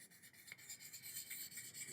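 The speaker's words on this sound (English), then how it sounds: "I'm going to come in with some wet dry paper. This happens to be 1200 grit and a hard rubber sanding block." Wet sanding with 1200 grit wet/dry paper on a hard rubber block levels a black repair finish, giving soft, close, rhythmic rasping strokes that repeat back and forth quietly.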